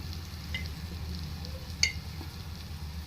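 Crab curry masala with chilli powder frying in a pan, a soft, steady sizzle with a faint scrape of stirring and one brief clink, close and fairly quiet.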